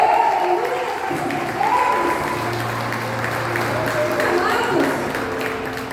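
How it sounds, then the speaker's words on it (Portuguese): A church congregation claps during a service, a continuous wash of applause with voices calling out and sustained tonal sounds mixed in. "Você pode aplaudir ao Senhor?"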